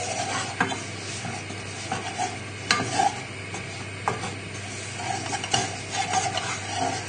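Close, continuous scraping of a spoon stirring a flour roux in a pan for fish pie sauce, with soft sizzling and occasional clinks against the metal.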